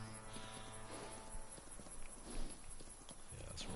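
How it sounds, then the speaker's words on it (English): Horses trot in Farming Simulator 19 on PS4, their hooves making a steady, continuous clip-clop over ambient game noise, with no talking. "Horses getting their little exercise."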